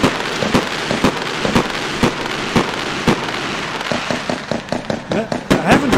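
Repeated sharp explosive bangs from video game fireworks in Fireworks Mania, roughly one every half second, growing denser and quicker toward the end, with crackling bursts.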